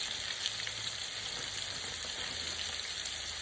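Pre-seasoned shrimp for po'boys fry in a pan with a continuous, even sizzle that holds at a moderate level throughout, close up and with no talking.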